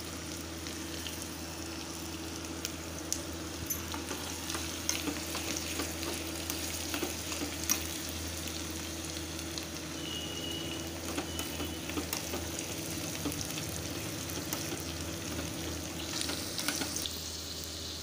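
Two dry red chillies sizzle in hot oil for a tempering, a steady close crackle with sharp little pops and occasional stirring scrapes, no voices.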